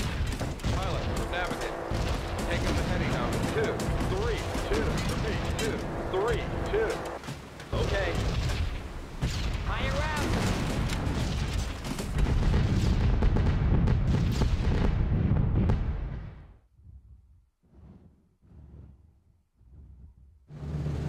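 Anti-aircraft flak bursts around a B-17 bomber in a combat flight game, a dense, continuous roar of booms and rumbling explosions with speech mixed in, cutting off into quieter scattered thumps near the end.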